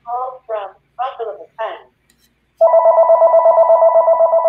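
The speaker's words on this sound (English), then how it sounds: "I unplugged the phone and it's still ringing" A person speaks briefly, then after a short pause a telephone begins ringing loud and close, an unbroken electronic trill with a fast pulsing flutter.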